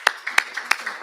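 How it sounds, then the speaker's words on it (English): A few sparse, evenly spaced claps, about four sharp hits, for a poster award winner at a live-streamed event, close and thin rather than a full crowd. "warmest applause to Shang-Chi Wang"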